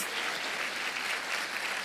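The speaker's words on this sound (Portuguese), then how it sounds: "Você pode aplaudi-lo." A church congregation claps together during a worship service, a dense, steady wash of applause that fills the whole short stretch without a break.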